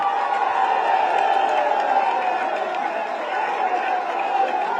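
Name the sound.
applause welcoming Akhilesh Yadav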